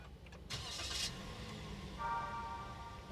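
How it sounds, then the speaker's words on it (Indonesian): A Toyota Avanza/Veloz with a 1500 cc engine starts by keyless push-button: a brief starter whir cranks, then the engine catches and settles into a smooth, quiet idle, heard from inside the car. "Halus ya mesinnya, mesin dari 1500 cc sebelumnya memang halus."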